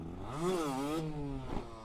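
A 50cc motorcycle engine idles and rolls slowly, its fairly faint buzzing tone rising and dipping in pitch as the throttle is eased on and off.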